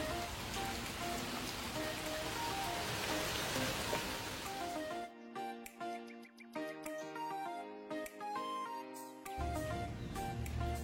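Rain pours down in a steady hiss, with sustained tonal notes ringing through the first half, then thinning to a sparser patter among the tones.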